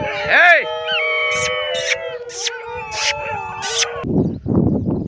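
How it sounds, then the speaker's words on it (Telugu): Sheep-herding dogs howl and bark in the rain, a rising, wavering howl followed by a string of sharp barks, then rough, noisy yelps close by. "అందుకే కుక్కలు అన్నీ అరుస్తున్నాయి"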